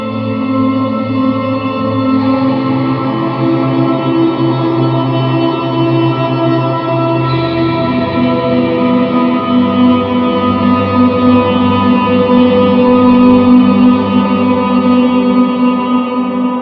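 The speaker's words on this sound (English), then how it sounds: "one of my favorite way to do kind of drone sounds." A dense, washy guitar drone sustains continuously, thick with reverb and echo, layered tones swelling slightly but never breaking, loud and unbroken.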